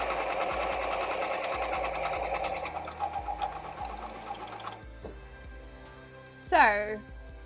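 A sewing machine closes a shirt seam with a fast, steady mechanical chatter that runs for several seconds, then stops, followed by a brief voice speaking.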